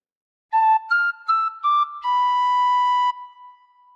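A tin whistle plays a phrase of Jingle Bells: a run of clear, bright piping notes, several short ones and then a long held tone, close and alone with no talking.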